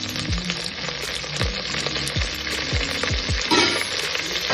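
Thinly sliced onions and curry leaves frying in a pan, a loud continuous sizzle with repeated stirring scrapes, close by and without voices.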